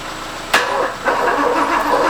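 A 1985 car with L-Jetronic fuel injection starts in a garage: a sharp click as the starter engages, then a brief crank and the engine catching into a steady, close idle within about a second.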